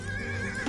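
A scout cavalry horse in Age of Empires 2 gives a brief, steady whinny, close and clear, over a low game background hum.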